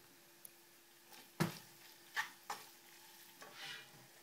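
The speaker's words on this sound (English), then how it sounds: "And then you are just gonna mix it." Farfalle and hot dogs are stirred with melting butter in a pan, giving a few soft, separate scrapes and faint sizzles against a quiet background.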